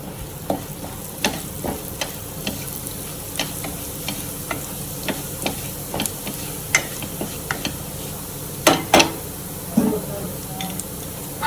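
Andhra-style chilli chicken ingredients fry and sizzle in hot oil, with a steady crackling hiss broken by repeated close scrapes and knocks of stirring against the pan, a few louder clatters near the end.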